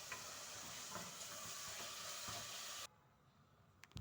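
Browned beef and onions being stirred in a hot pan for a Jordanian stuffed-chicken dish, a steady sizzle with scraping strokes that cuts off abruptly near the end, leaving quiet.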